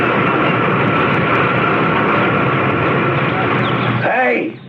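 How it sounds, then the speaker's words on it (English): Helicopter arriving as a radio drama sound effect: a loud, steady rotor and engine roar fills the clip, then changes and fades near the end. "Until Zaslow came down to get me in a big helicopter."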